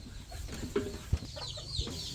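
Free-range village chickens at a rural Thai home give scattered, soft clucks over a steady background hiss, with brief low knocks in between.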